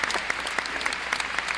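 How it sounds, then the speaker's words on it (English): A crowd applauds, with a dense patter of clapping and a few sharper, closer claps standing out. "round of applause, people."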